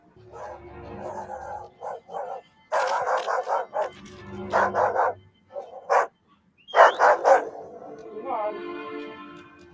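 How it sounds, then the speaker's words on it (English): A dog barking in the animated Star Wars series Tales of the Jedi, a run of sharp barks and yips with a whimper, heard in bursts against quiet gaps. "It's a very normal dog for Star Wars."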